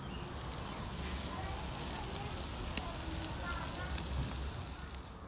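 Food sizzling and frying in a pan, a steady close hiss with faint crackles throughout, no voices over it.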